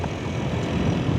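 Strong wind roars past a motorbike riding at fair speed on a concrete road to a garden, a dense, steady rush with no pauses.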